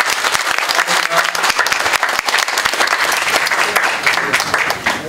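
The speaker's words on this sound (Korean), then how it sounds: "저희 크게 박수 한번" An audience at a religion forum claps loudly and steadily, many hands close by with sharp individual claps standing out from the dense wash throughout.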